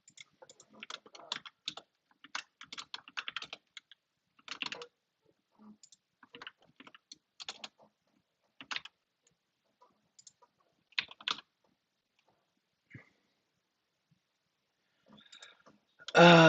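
Scattered clicking keystrokes on a computer keyboard, in quick irregular bursts separated by pauses, close and dry in a quiet room, with a brief louder sound at the very end.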